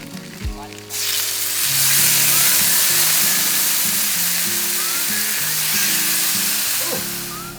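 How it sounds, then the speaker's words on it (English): Fajita chicken sizzling loudly on a hot Blackstone griddle outdoors at a camper cabin, a sudden burst of frying hiss that holds steady and close, with faint sounds of stirring after a brief clatter at the start. "we got a Blackstone with fajita chicken going"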